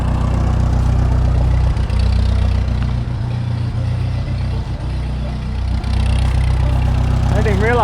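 A 1939 Ford 9N tractor engine runs steadily at idle nearby with a low, constant rumble, its exhaust fumes drifting into an enclosed space, while a person talks over it throughout.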